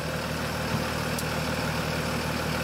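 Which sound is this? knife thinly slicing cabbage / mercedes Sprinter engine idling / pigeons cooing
mercedes Sprinter engine idling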